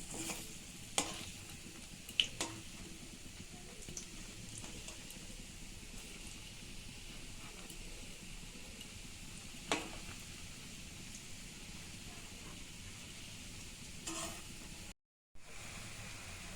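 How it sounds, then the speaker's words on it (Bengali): Lentil fritters (bora) fry softly in a pan under a constant low hiss, with faint scrapes and a few sharp clicks as the fritters are turned over. "বড়াটা আমার এক পিঠ ভাজা হয়ে গেছে। সবগুলো বড়া আমি এখন উল্টে দিচ্ছি।"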